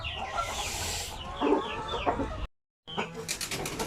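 Native chickens cluck repeatedly in a busy farmyard, with scattered bird calls; the noise cuts out briefly, then clucking and chirps resume.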